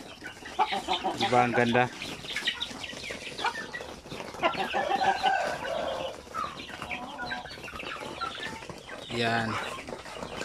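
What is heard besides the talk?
chickens and hens clucking on a farm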